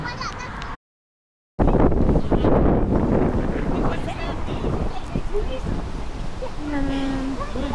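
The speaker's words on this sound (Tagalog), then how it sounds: "Lakas ng hangin." Strong wind outdoors in Cleveland buffeting the microphone in loud, rough gusts, briefly cut to silence, with people talking over the roar.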